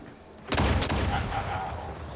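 Explosions from mines in the video game The Outer Worlds: one sharp, loud blast followed quickly by a second, then a rumbling decay with faint game sounds after.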